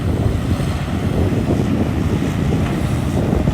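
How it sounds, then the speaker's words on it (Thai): Strong wind buffets the microphone at a Komatsu PC200-7 excavator site in a steady, loud low roar with no letup, gusting throughout. "ลมค่อนข้างแรงผู้ชม"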